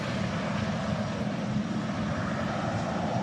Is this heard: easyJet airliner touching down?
yes